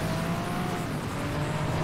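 Nitrous boost on a car in the racing game FlatOut 2: a steady, loud engine roar with a constant low drone, held unbroken throughout with no talking.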